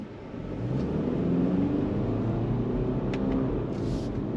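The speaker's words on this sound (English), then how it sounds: "It's just a 4-cylinder engine sound." Four-cylinder engine of a 2025 Subaru Forester Sport accelerating, heard from inside the cabin as a steady, moderately loud low drone and rumble that holds evenly throughout without voices.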